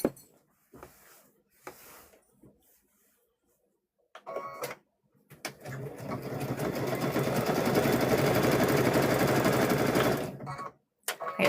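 A sewing machine stitches a patchwork quilt in a long, steady whirring run of several seconds, preceded by short bursts and quiet gaps, close and loud with no talk over it.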